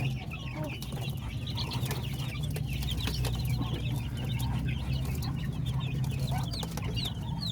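Chocolate-colored Orpington hens clucking in a flock, many overlapping soft clucks and murmurs over a constant low farmyard hum, with no talking.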